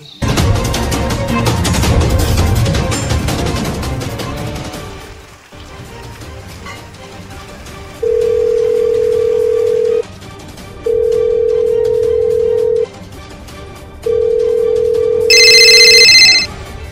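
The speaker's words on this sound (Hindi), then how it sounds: "फोन बाजा था" A telephone rings in three evenly spaced long electronic bursts after a noisy, busy stretch of background sound, each ring clear and steady at close range, with a brighter tone overlapping near the end.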